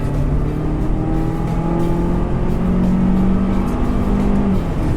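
A 2015 Volvo XC60 engine spools up to about 5,500 RPM, a steady loud rising drone with climbing tonal whine heard from inside the cabin, no talk.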